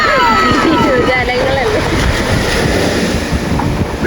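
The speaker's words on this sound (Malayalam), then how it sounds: "തിരമാല വരുന്നു നോക്കി നിൽക്കുന്നു ചാടുന്നു" Ocean surf rolls in at a beach, a steady loud wash with wind buffeting the microphone, while voices talk and call out excitedly over it.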